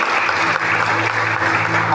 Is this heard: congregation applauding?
yes